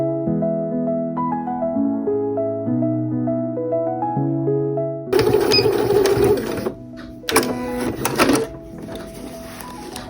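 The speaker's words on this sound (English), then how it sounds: "we're going to sew along this outer line all the way to the edge" A domestic sewing machine stitching a sling bag, with fast rhythmic mechanical clatter in short bursts, stopping and restarting, heard alone and close after a stretch of soft background music.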